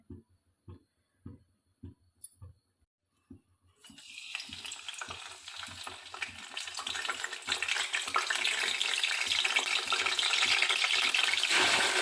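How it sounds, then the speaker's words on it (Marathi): Masala paste for a dried shrimp curry hits hot oil in a pan: a few soft taps come first, then a loud, steady sizzle starts and builds, continuing close up without any talk. "तेल तापल्याच्या नंतर आपल्याला इथे पेस्ट करून घेतलेला आहे तो घालायचा आहे"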